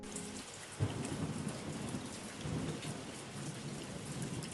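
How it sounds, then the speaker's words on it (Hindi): The first rain of the monsoon season pours steadily, a dense close hiss of rain on surfaces, with a deep thunder rumble breaking in near the start and rolling on under the downpour. "बरसात के मौसम की ये पहली बारिश थी।"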